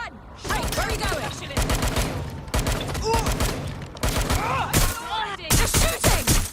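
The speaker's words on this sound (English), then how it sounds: "That was a gun!" Video game gunfire in Watch Dogs: Legion, with repeated bursts of shots and fusillades in loud clusters, mixed with thumps and game voices shouting over the action.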